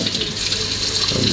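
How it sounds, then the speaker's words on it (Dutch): Lukewarm water runs from a kitchen tap in a steady, close hiss of flowing water, measured out for a Valentine's Day cake batter. "Dan moeten wij dus 100 milliliter water pakken. Lauw water, dat was wel belangrijk."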